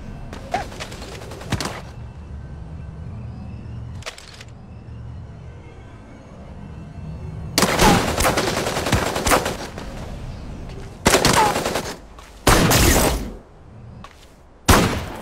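Loud bursts of gunfire from the mech battle game Super Mecha Champions, with a few short shots early on, then several long rapid-fire volleys separated by brief pauses over a low background rumble.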